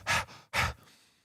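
A person imitates the panting of a character waking from a dream in a sweat, giving two strong breathy pants followed by a fainter trailing breath, close and clear.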